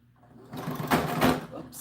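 Sewing machine stitching the edge of a small doll dress, a close mechanical whirr that starts softly, builds into two louder bursts of rapid stitching and then eases off, with no talk.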